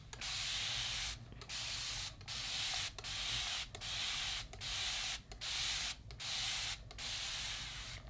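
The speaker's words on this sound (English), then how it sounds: "I will be spraying myself directly in the face." L'Oreal setting spray misted directly onto a face in a series of about eight close, loud hissing bursts, each lasting close to a second, separated by short pauses.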